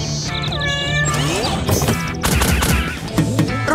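Cartoon cats meow several times in a Paw Patrol animated scene, clear and close, before busier cartoon effects and clattering sounds take over.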